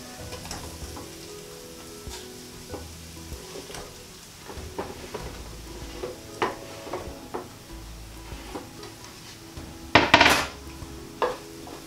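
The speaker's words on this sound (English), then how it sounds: "So all you're trying to do here is just give a very light coating of what oil is left onto the aubergine" Aubergine pieces stirred with masala and a little oil in a crowded pan, with soft sizzling and repeated scraping and clinks of a utensil against the pan, ending in a sharp louder clatter near the end.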